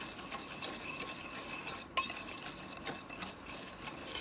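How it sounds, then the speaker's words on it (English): A wire whisk works flour into sugar in a mixing bowl for a custard pie, giving a steady dry scraping and rustling with one sharp tap against the bowl partway through, close and without talk. "I'm going to take a whisk and whisk the flour into the sugar"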